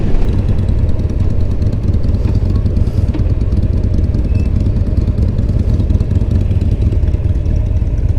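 A Harley-Davidson motorcycle rumbles steadily at cruising speed, its low engine throb loud and constant with wind noise, no voices.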